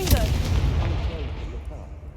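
Confringo fire spell bursting in the video game Hogwarts Legacy, one heavy booming blast at the start that rolls into a long low rumble and slowly fades, loud and close.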